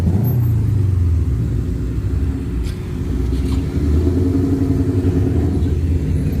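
A Ford Mustang 5.0 S550 idles and rumbles at a night car meet, a close, loud, deep engine drone that dips briefly and then swells again, with no one speaking.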